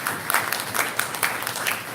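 An audience at an annual lectureship event breaks into dense, continuous applause that stays full and loud throughout.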